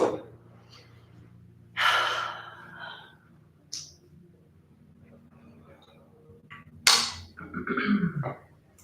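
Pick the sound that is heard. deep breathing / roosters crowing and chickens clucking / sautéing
deep breathing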